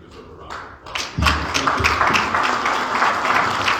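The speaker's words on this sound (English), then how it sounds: "you deserve a round of applause." Audience at a political meeting breaks into applause, a few scattered claps at first swelling into steady, fairly close clapping from a modest crowd.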